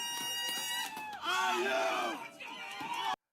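A bar crowd erupts in loud cheering and shouting, swelling midway, dipping briefly, then surging again before cutting off abruptly.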